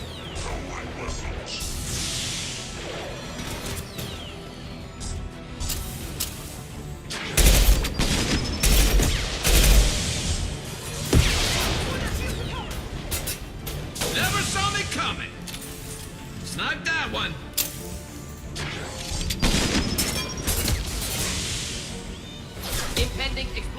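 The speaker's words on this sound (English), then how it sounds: "explosion!" Gunfire and explosions in the video game Mass Effect 2 Legendary Edition: rapid crackling bursts of shots and heavy booming blasts recur throughout, mixed with in-game voices.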